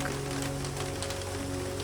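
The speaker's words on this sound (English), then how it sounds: "The rain drifts again, tiny ripples along the glass" Rain patters steadily on the glass of a rooftop greenhouse, a soft, even hiss of drops over a low sustained hum.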